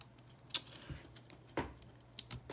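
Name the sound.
mechanical keyboard keycap pressed onto Cherry MX White switch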